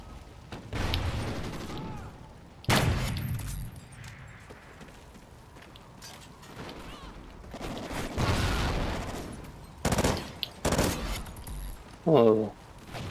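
Bursts of gunfire in Call of Duty Ghosts, several loud volleys and rapid shots spread out with quieter gaps between them, mixed with occasional talking.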